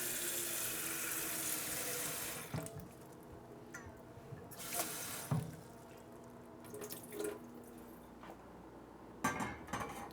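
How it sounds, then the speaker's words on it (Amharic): Cold water from a tap runs into a cooking pot on the stove while preparing Ethiopian chickpea hilbet, a steady rushing stream with occasional clinks and drips as the flow stops and starts. "በመቀጠል ውሃ ቀዳለሁ ማለት ነው፣"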